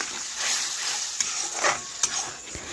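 Chhana is mixed with cashew and poppy seed paste in a pan, with soft, faint stirring and scraping strokes, a few sharper clicks and a light sizzle underneath.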